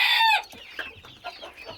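Chickens in a rural yard, with a young rooster among them, give soft, uneven clucks that follow a loud, harsh crow-like call at the start.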